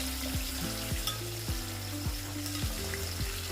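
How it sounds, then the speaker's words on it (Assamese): Onions fry in a pan for chicken pulao, giving a steady, soft sizzle while a utensil stirs them in a few regular scraping strokes. "এতিয়া তাৰ লগত মই পিঁয়াজখিনি দি দিলোঁ।"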